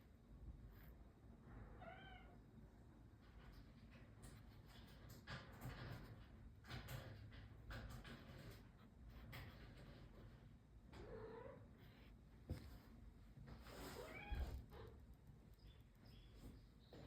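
A domestic cat meows several times indoors, short harmonic calls standing out faintly over a steady background hum, with a door or sliding noise nearby.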